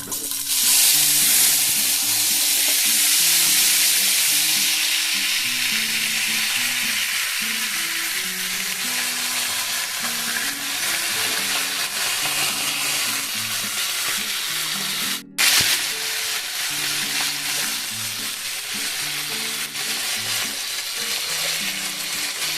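Cut vegetables for chorchori fry in hot oil and are stirred, a loud, continuous sizzling hiss with scraping of the spoon against the pan, steady for the full length apart from one brief dip.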